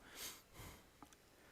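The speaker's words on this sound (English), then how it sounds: "So sorry for the sniffling" A couple of quick, close nasal sniffles, quiet, with a faint soft click afterward.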